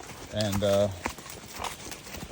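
A Foxtrotter mare on a trail ride, hooves clip-clopping softly on the ground amid outdoor noise, with a short spoken word from a nearby rider at the start.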